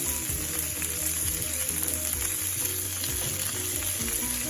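Burger patties seasoned with Indian spice frying in a pan, with Havarti melting on top: a steady, close sizzle that runs unbroken under a layer of tonal background music.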